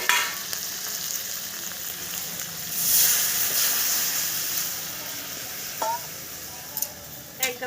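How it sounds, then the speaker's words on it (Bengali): Hot water poured into a pan of sautéed spices for a village-style prawn curry, a steady frying sizzle and hiss with a louder burst of steam, plus a few sharp utensil clinks toward the end. "কষে নেওয়া হয়ে গেছে এবার আমি গরম জল দিয়ে নেব"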